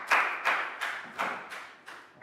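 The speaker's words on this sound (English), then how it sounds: "Big round of applause for Bang Bong" In a Year 3 math classroom, a small group claps in a slow rhythmic pattern of about six distinct claps, fairly close and moderately loud.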